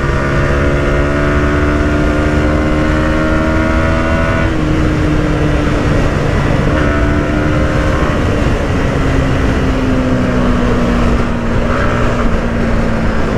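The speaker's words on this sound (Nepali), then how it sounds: "अहा क्या ब्यालेन्स बाइक है लममा भाइ यो बाइक मलाई लास्टै मन पऱ्यो" A motorbike rides along with a continuous engine drone that rises and falls in pitch as it shifts speed, loud and close the whole way, with no one talking.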